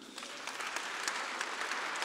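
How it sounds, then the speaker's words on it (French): Audience applause at a Radio France season launch conference, a faint but steady patter of many hands clapping in a large hall, continuous and even, with no talk over it. "Merci aux talents qui sont venus ce soir à votre rencontre et que je vous demande d'applaudir."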